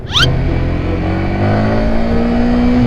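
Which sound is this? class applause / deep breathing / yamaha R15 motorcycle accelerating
yamaha R15 motorcycle accelerating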